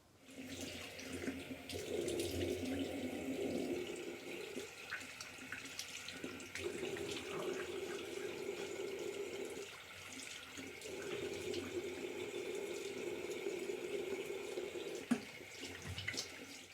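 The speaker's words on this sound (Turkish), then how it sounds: "yüzümü yıkayacağım. Kardeşim de yüzünü yıkayacak." A bathroom tap runs steadily while someone washes their face, giving a continuous close splashing stream with brief interruptions as hands move through the water.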